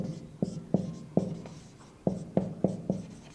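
Chalk or pen marks up figures on a board during a Class 12 physics lesson on resistor combinations: a series of sharp, close tapping strokes in an uneven rhythm, with no talk.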